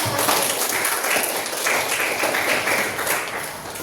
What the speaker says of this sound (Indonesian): terima kasih tepuk tangan dulu untuk semua